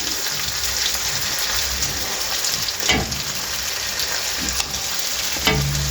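Stuffed tinda, round gourds, frying in oil in a pan: a steady, close hiss of sizzling with crackling pops and a few louder bursts, no talking.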